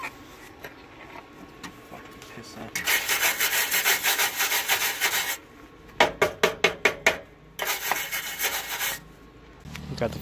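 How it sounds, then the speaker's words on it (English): An angle grinder cuts out the last bolt hole in an SRT-4 engine bay panel, in loud bursts of harsh high grinding with short gaps and a quick series of rapid stuttering pulses between them. "We just gotta grind the last hole right there."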